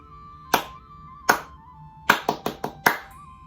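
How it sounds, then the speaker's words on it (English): Six sharp hand claps ring out in a rhythm: two spaced claps, then a quick run of four, over a faint steady tone. "I'm only going to clap it and show it to you on the screen"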